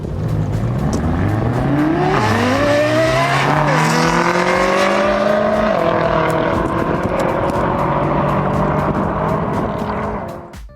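A Lexus LFA's high-revving engine sings loud and close, its tone climbing and dipping through several sustained rev sweeps for about ten seconds before fading slightly at the end, with no talking.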